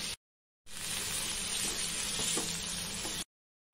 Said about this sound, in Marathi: आता आपण कांदा टाकूया बारीक चिरलेला. हा थोडा परतून घेऊ